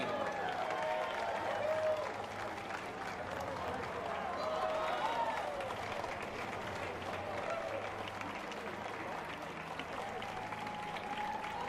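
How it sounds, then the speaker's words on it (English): A parade crowd in Vermont applauds a twirl team, steady clapping and light cheering filling the whole stretch at a moderate distance, with faint talk beneath it. "Give them a big round of applause."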